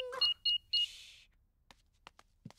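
An alarm system is switched on and gives three short electronic beeps in quick succession, followed by a few faint clicks and taps in a quiet room in a cartoon.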